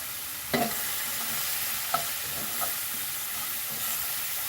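Onions frying in a pan and being stirred, giving a steady hissing sizzle with a few soft scrapes from a utensil, close up, with no talking.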